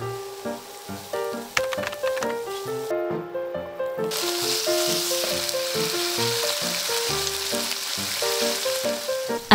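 Potatoes fry in a pan for a quick breakfast dish, giving a steady, soft hiss and sizzle that runs throughout beneath louder, continuous background music.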